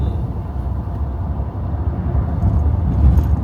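Heard from inside a NIO ES8 electric car as it accelerates, a low road and tyre rumble swells louder toward the end, with no engine note and no talking.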